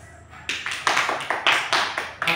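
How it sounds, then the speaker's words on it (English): A classroom audience gives a short burst of applause for a student, with sparse, uneven hand claps that build and then continue steadily, close and moderately loud, with no talking. "Let's give her a round of applause."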